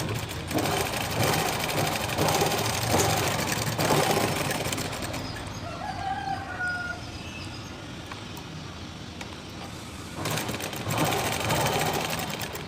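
A sewing machine runs steadily while stitching a blouse seam, starting at the neckline, loud and continuous, then easing for a few seconds before resuming at full speed.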